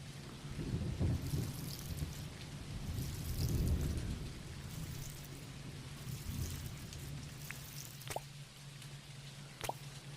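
Steady rain pattering and dripping in a farming video game, with low rumbles of thunder rolling through and a few sharp drip plops, played back fairly quietly with no talking.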